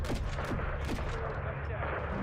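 Heavy gunfire shoots down an enemy helicopter in Modern Warfare 3, a short burst of dense, loud, rapid shots over a rumbling combat backdrop.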